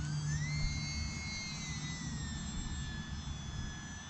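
E-Flite UMX Cirrus SR22T small brushless RC plane flying fast overhead, a steady high-pitched motor whine shifting in pitch as it passes, continuous and fairly close with no talk.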